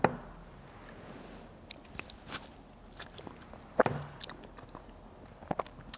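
Someone eating a forkful of baked pasta al forno with bechamel, peas and a crunchy breadcrumb topping; soft close-up bites and chewing with a few sharper crunches, scattered over a quiet background with no talk.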